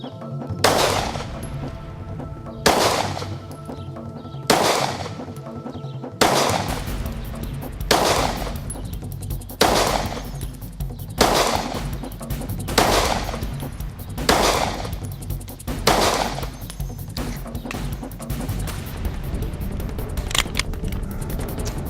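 Handgun shots fired at 7 yards during a concealed carry qualification course, a steady string of sharp, loud single reports spaced about a second apart, with a few quicker pairs and no talking.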